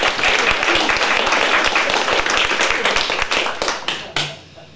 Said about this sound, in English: You can applaud that, that's good stuff.